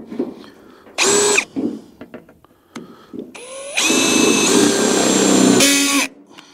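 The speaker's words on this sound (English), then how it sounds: "I'm going to drill four holes in the bottom of it, four holes into this" A power drill bores holes into a metal part on a New Holland 488 hay machine: short bursts of whining motor, then a longer sustained loud drilling run that rises in pitch as it spins up, heard close.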